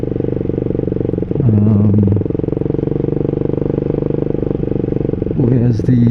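Ducati Hyper 698 motorcycle with a Termignoni full race exhaust and dB killers fitted, a loud steady idling rumble with two brief throttle blips, while a person talks over it.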